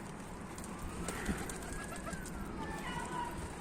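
Pigeons coo softly in a coop, low repeated calls over steady background noise, with a faint whistle-like tone drifting through.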